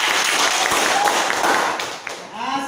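Classroom applause during a teaching practice session: a steady, dense wash of many hands clapping throughout, tapering slightly near the end, with a few voices briefly audible underneath.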